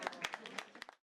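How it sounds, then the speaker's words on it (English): A studio audience applauds in a short burst from a played-back segment, a few sharp claps standing out over a dense patter that cuts off abruptly after about a second. "the applause for the media there was interesting"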